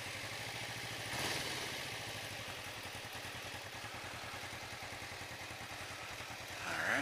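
A 2009 Kawasaki Vulcan EN500 motorcycle engine idles with a steady, even pulsing throb, close and continuous, with a brief rev near the start and another rise at the very end.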